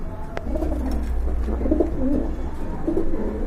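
A pair of black Gola pigeons cooing, repeated throaty rolling coos at close range over a low steady hum, with a sharp click early on and no talking.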